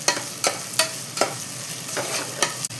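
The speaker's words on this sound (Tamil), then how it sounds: "வெங்காயம் வதக்க கொஞ்சம் உப்பு சேர்த்துக்கிறேம்மா" Sliced onions sauté in oil with salt for kuska, a steady sizzle broken by regular scraping strokes of a spoon stirring every half second or so, close and loud.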